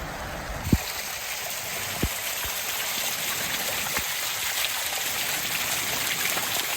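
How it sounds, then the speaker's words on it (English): Steady, heavy rain pours without letup during flooding in New South Wales, a dense continuous hiss with a few sharp drips or knocks standing out near the start. "It just has not stopped raining."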